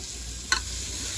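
A potato and onion curry hisses in a hot tempering with red chili: a brief, even sizzle broken by a single sharp clack.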